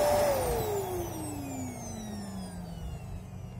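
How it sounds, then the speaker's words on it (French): A vacuum cleaner running on an Anker Solarbank 3 Pro solar battery set to maximum power makes a loud motor whine whose pitch sinks steadily as it struggles and winds down under overload. "si je règle la puissance au maximum et que je fais démarrer l'aspirateur"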